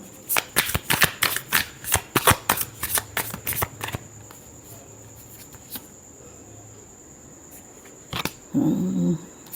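Tarot cards being shuffled in a quick run of sharp riffling bursts for about four seconds, then a quiet pause and a brief rustle near the end, close and alone without talking.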